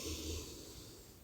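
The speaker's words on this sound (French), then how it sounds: "Prenez une bonne inspiration par le nez" A single deep breath drawn in through the nose during a guided French sophrology relaxation session, soft and close, lasting about a second.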